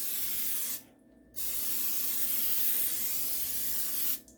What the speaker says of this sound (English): We're going to spray it real good so it won't stick.